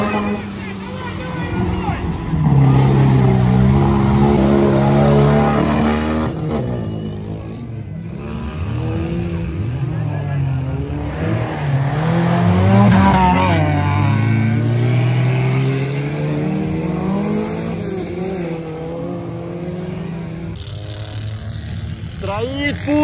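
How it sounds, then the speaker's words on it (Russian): Engine of a UAZ 4x4 off-road vehicle revving hard through a sprint off-road race, a loud sustained rising and falling drone with throttle surges, under a commentator's continuous talk. "УАЗ 4х4 местный"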